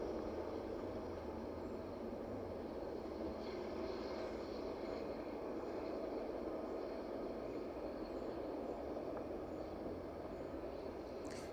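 A Boeing 777 on final approach into East Midlands Airport makes a steady, distant jet-engine rumble and roar that holds evenly throughout, with no talk.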